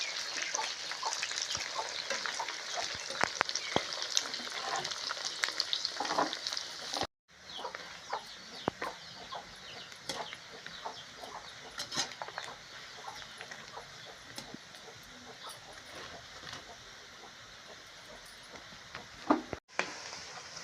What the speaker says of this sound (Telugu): ఎర్రగా వచ్చేలాగా వేపుకోవాలి.